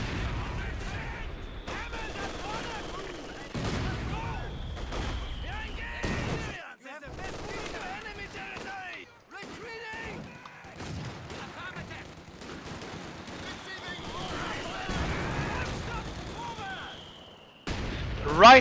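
Dense, sustained battle noise from Company of Heroes 2, with repeated gunfire bursts and mortar blasts in a multiplayer match, loud and layered, alongside someone talking.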